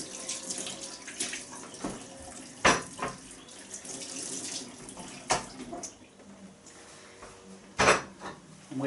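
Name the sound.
water running while rinsing potatoes in the sink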